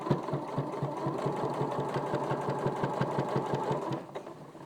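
A sewing machine steadily stitching quilted fabric for a cushion cover, a fast even mechanical clatter close by that runs for about four seconds and then winds down.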